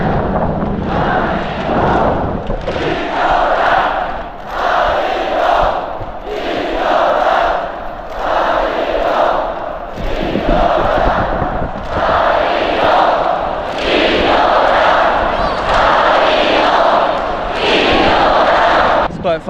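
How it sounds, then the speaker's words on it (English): A large crowd in a North Korean stadium roars and chants in loud, rhythmic surges close by, with voices rising and falling in repeated waves. "when I came in there was like a bit of a cheer"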